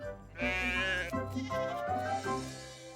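Cartoon lambs bleating in a railway wagon, several overlapping wavering bleats close up and loud, filling the whole stretch.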